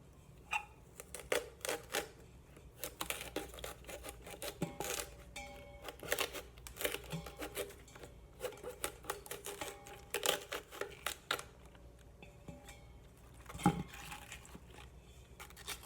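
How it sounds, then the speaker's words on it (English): A sharp knife cuts around the core of a cauliflower, giving quiet scattered crunching and snapping sounds with brief crisp cracks, close and soft, with no talk. "I'm going to poke this sharp knife in here, cut around to separate the leaves and the florets from the core."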